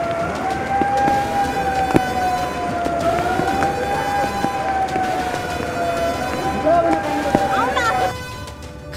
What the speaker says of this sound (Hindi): खतरे की चेतावनी देने वाले सायरन की आवाज सुन रहे हैं आप।